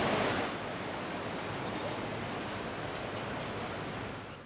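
Heavy monsoon rain pours down in Ratnagiri, a dense, steady roaring hiss that holds evenly throughout with no voices.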